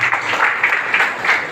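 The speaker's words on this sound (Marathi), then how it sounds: "अशा मंडळींसाठी जोरदार टाळ्यांचा गडगडाट." An audience at a community award and felicitation ceremony breaks into sustained applause, a dense wash of clapping that swells and holds loudly throughout.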